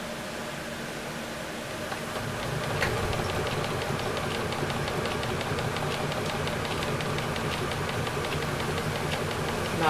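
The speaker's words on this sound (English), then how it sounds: "I'm going to turn on the lathe and I'm going to start it up as slow as I can" A wood lathe turning a maple vase blank starts up at slow speed, settling into a steady mechanical hum with a faint rhythmic wobbling beat, close and continuous, with no talk.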